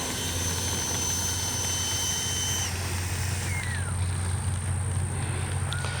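Freewing 80mm L-39 RC jet's electric ducted fan running steadily and loud throughout, a continuous whine with a high tone that drops in pitch partway through as the motor spools down, over broad rushing noise.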